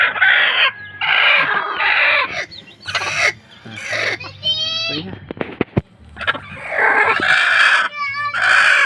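Rhode Island Red chickens in a new coop cluck and squawk noisily in repeated loud bursts close by, with a drawn-out crowing-like call in the middle and short gaps between outbursts.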